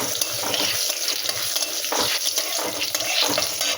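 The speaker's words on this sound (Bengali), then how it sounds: "এই দেখো আমি তেজপাতা শুকনো লঙ্কা দিয়ে দিলাম একসঙ্গে।" Bay leaves and dried red chillies sizzle steadily in hot oil for a lentil and vegetable dal, with a dense continuous frying hiss and a few soft stirring clatters, close and alone without talk.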